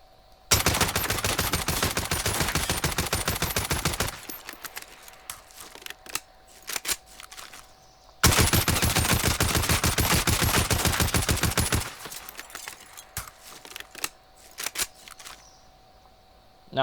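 Two long bursts of rapid automatic fire from the ODEN rifle in Call of Duty Warzone, each lasting a few seconds, loud and close, with scattered single shots and mechanical clicks in the quieter stretches between.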